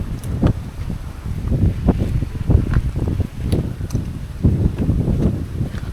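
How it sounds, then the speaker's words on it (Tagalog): Wind gusting across a rocky shore, rough buffeting rumbles and microphone gusts in uneven bursts, fairly loud and close, with no voices. "Sarap ng hangin."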